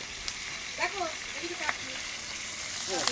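Head of a huge 51-kilo katla fish sizzles in hot oil in a wok, a steady frying hiss running throughout with people talking over it.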